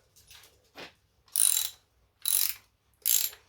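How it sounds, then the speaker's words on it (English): A wrench ratchets as a nylock nut is tightened on a classic Fiat 500 gear shift linkage, giving about five short, crisp ratcheting bursts with brief gaps between them, close and fairly quiet. "I've replaced the nut that goes on the bottom there with a nylock nut. So I'm just going to tighten that down."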